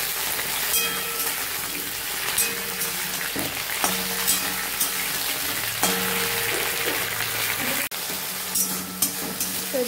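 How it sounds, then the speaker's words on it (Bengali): Ground spice paste frying in a pan, a loud continuous close sizzle with occasional scrapes and knocks of a spoon as it is stirred. "এদিকে এই যে বেটে রাখা মশলাগুলো দিয়ে দিলাম, ভালো করে একটুখানি ফ্রাই করে নিই"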